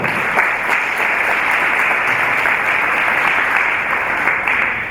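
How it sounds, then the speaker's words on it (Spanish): Audience applause fills a film club session, a dense, steady clapping from a room full of people that holds at full strength throughout with no voices on top. "Bienvenido, un fuerte aplauso."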